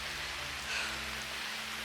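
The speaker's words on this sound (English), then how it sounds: "Oh joy, it's raining and it's thundering." Steady rain in a canyon, a continuous hiss of falling drops with a low rumble of thunder underneath, a faint swell near the middle, no talking.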